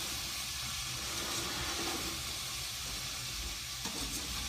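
Elephant garlic and potatoes sizzle steadily while browning in a pot, a soft continuous frying hiss at moderate volume with a brief faint clink of stirring near the end.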